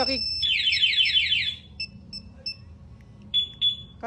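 A motorcycle anti-theft alarm blares loudly with rapid warbling tones, then breaks into short repeated chirps and beeps over a low background rumble.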